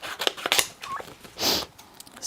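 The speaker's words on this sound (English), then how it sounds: "Now I'm kind of tucking my scissors underneath to trim off" Scissors snip and trim vellum paper at close range in a few quick, papery cuts with soft rustling between them, no talk.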